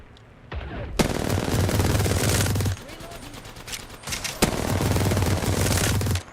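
Automatic gunfire in a battle royale shooter video game, played on controller: two long, loud sustained bursts of rapid shots separated by a short lull, with a few single cracks and low rumbling weapon tones underneath.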